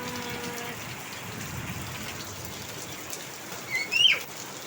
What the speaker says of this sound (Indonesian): Lagi hujan di rumahnya kakak Ceca, teman-teman, deras banget